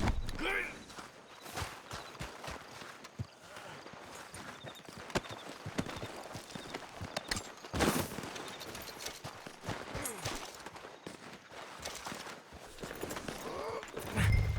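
Horse hooves clip-clop steadily at a walking pace through a busy Red Dead Redemption 2 game scene, with scattered gunfire and voices mixed in around them.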